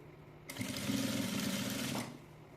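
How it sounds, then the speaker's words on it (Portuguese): A sewing machine runs steadily for about a second and a half, stitching the bottom seam of fabric tucked inside bias binding, starting and stopping sharply, close and fairly loud with no talk. "E faço a costura na parte de baixo primeiro."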